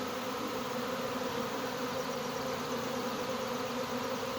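A honey bee swarm hums in a steady, dense drone as bees fan. The buzzing is even and unbroken, moderately close and alone.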